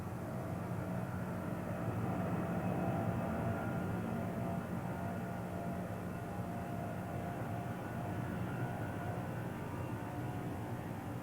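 A Boeing 747 jumbo jet taking off, giving a steady, broad engine roar that holds even throughout at moderate distance with no voices.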